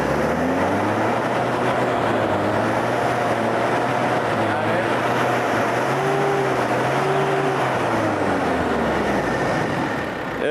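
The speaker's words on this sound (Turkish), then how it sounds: "Hazırsanız şimdi o marşı bir duyalım arkadaşlar." A Mitsubishi L200 pickup's engine runs and revs in steady rising and falling surges, loud and close throughout, with no talk over it.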